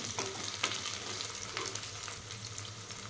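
Mushroom biryani masala with mint stirred in a pan, a soft continuous sizzle with scraping strokes from the spoon, fairly quiet and close.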